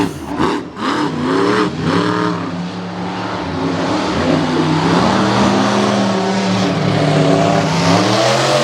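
Monster truck engines roar loud and close as the trucks launch at a race in Jennerstown, rising in pitch through hard acceleration and holding a sustained, throaty revving drone.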